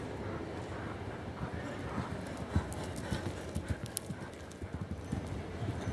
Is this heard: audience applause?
no